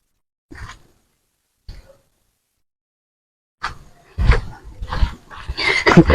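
At night in a cemetery, a dog lets out a couple of short, faint whimpers, then louder whining yips and whimpers follow close by, growing more insistent toward the end.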